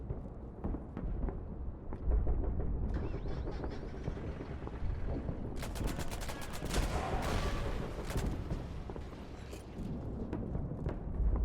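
Bursts of gunfire crackle through a steady noisy background, with a dense volley of rapid shots in the middle and scattered single reports around it.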